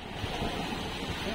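Sea waves wash and rumble in a continuous noisy swell, mixed with wind buffeting the microphone, close by on open water near boats, lasting only a moment.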